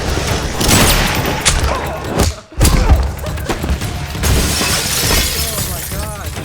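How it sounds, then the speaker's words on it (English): Loud, close mortar round sound effect: heavy booming blasts with a shattering, crashing tail that fill the whole stretch, cut by a brief dip of near silence before another burst. "That was a mortar round."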